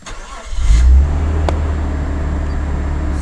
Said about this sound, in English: The motor's cold. I'll just do a start up for you